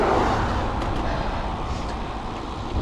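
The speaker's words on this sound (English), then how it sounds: "There's a car behind me though, going the other way" A car passes on the road behind a rider out on a fall bike ride in Gig Harbor, its steady broadband roadway rumble carrying throughout the clip under wind noise.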